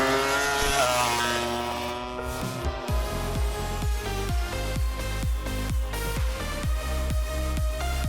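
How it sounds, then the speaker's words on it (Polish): Loud MotoGP racing motorcycles roar past in quick succession at the Brno circuit, each pitch rising then dropping as they sweep by at high speed, with a dense continuous motor drone underneath. "MotoGP to najwyższa klasa wyścigów motocyklowych na świecie"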